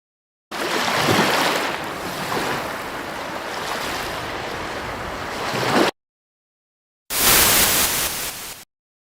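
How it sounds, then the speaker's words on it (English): Ocean waves from a stock sound-effect library wash in as a steady, loud broadband surf roar for several seconds, break off into silence, then return briefly in a second burst. "Okay, sound effects, ocean."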